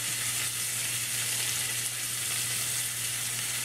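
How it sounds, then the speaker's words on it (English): A steak fries in a pan on a burner, sending out a steady, dense, loud sizzle close by, with a faint continuous low hum underneath and no talking. "what I'm going to do is I'm just going to turn this steak around"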